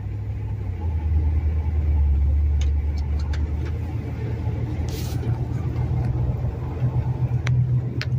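Police vehicles drive past a car pulled over at the roadside, a loud low engine rumble and road noise swelling and fading with faint clicks, while someone talks over it.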